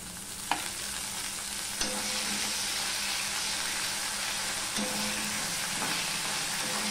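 Ginger, garlic and onion fry in a pan with a loud, continuous sizzle, broken by a few sharp clicks of a spoon scraping and tapping against the metal.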